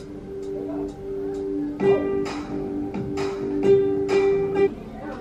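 A ukulele plucks a simple, bright melody with single notes and light strums at a moderate pace, close and clear.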